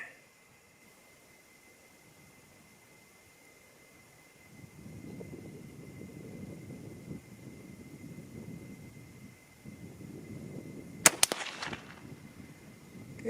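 A single 6mm ARC rifle shot fired with a hunting bullet load cracks sharply outdoors, loud and brief, after a stretch of low wind rumble, with a short echo trailing off.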